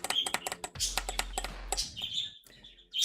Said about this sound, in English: my birds are being so loud